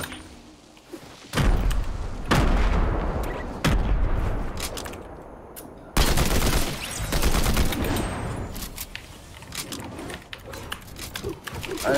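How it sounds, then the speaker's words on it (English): Fortnite gunfire in a duos match, with dense volleys of rapid shots and bursts that keep starting and stopping, loud and close, with no talking over them. "There's like shooting coming to me, bro."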